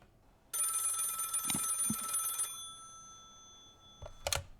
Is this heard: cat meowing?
no